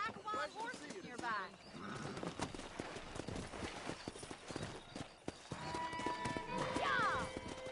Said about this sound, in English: That ranch hand said there's a pack of wild horses nearby.